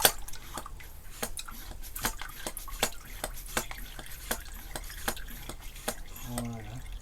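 Coolant draining from a Suzuki GSX650F motorcycle: scattered drips tap out an irregular series of sharp, close ticks over a low steady background hiss, with no talk.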